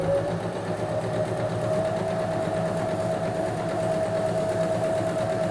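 An Elna 340 sewing machine runs steadily under foot-pedal control, giving a loud, continuous close-up motor whir with an even mechanical hum and no pauses or talking.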